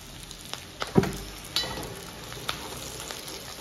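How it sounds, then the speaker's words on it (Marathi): Dried red chilies roast in a pan with a faint, soft sizzle, broken by a few scattered crackles and light taps, quiet and close with no talking. "मिरच्या सुद्धा छान कुरकुरीत भाजून घ्यायच्या आहेत, पण करपवायच्या नाही आहेत"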